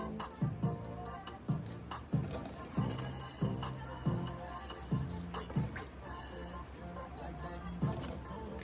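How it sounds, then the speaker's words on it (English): Boiled eggs are peeled while dipped in water, giving soft repeated splashes and dripping at a steady rhythm, close and quiet, with faint scratching of shell. "just kind of wet it, kind of dip it into the water as you peel"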